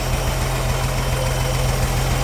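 The original engine of a 1963 Ford F100 pickup idles, giving a steady, low, even rumble that is close, loud and unbroken throughout.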